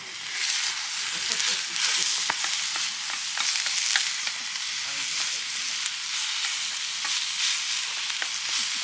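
Minced meat sizzles and fries steadily in a pan over a campfire, with a continuous loud hiss and scraping stir strokes throughout.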